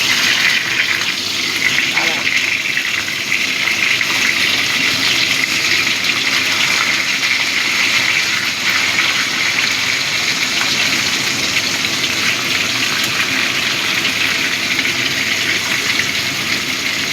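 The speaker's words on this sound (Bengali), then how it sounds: "শশাটাও একটু ভেজে নেব।" Cucumber pieces fry in a pan with potatoes for a prawn curry, giving a loud, steady, unbroken sizzling hiss that fills the whole stretch without pause.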